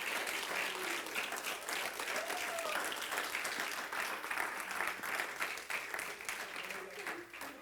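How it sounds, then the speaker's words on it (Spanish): A church congregation breaks into sustained applause for several seconds, a dense, steady wash of clapping that fills the space with voices mixed in. "Denle un fuerte aplauso al Rey."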